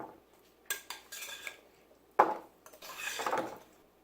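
Rutabaga pieces clatter onto a hot roasting pan, a few separate knocks and scrapes followed by a longer run of clinks and shuffling as they are spread out, close and fairly quiet.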